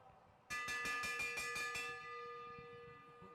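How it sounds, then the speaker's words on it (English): A bell rings for the last lap at an evening bicycle race, about eight rapid bright strikes over a second and a half, then a lingering metallic ring that slowly fades. "He's going to hear the bell when it comes around."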